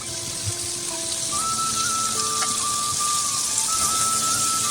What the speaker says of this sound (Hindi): अब इसे मीडियम फ्लेम पे करके अच्छा सा चिकन और ये मसाले को भून लेंगे